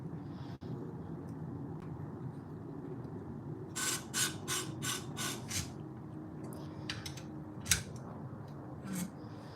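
A series of quick, bright rasping strokes of metal on an abrasive surface as Gingher sewing scissors are sharpened, bursting in short rhythmic runs over a low steady hum.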